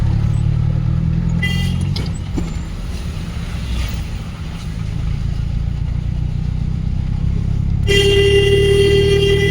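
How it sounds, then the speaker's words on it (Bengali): A car driven at speed along the Chandpur-Comilla highway, with a loud, steady engine and road roar throughout and a brief horn toot near the end. "শিহাব মন খুলে গাড়ি চালাতেছে"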